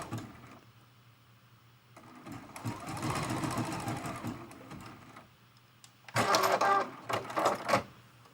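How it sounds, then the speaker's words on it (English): A sewing machine test-stitching a zigzag on fabric scraps, short bursts of rapid mechanical chatter separated by pauses, with the loudest run near the end. "I always test it out on some scraps before I start sewing on my project."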